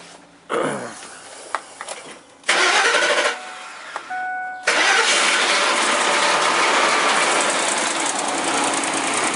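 A Ford 4.6-litre V8 engine cranks and catches after a few tries, then settles into a loud, steady running rumble close by.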